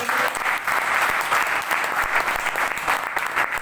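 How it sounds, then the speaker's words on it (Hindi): Steady, close applause fills a network marketing meeting hall, many hands clapping densely and continuously throughout with no pause. "ताली बजाओ।"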